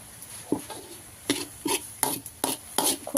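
Curry ingredients dry-roasting in a pan over a wood fire for Isan-style khilek curry, with a series of close, brisk scraping stirs in uneven bursts and a faint sizzle beneath.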